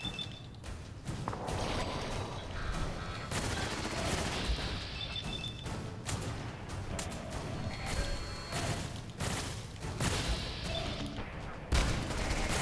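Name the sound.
turret bot firing in Fallout 4 video game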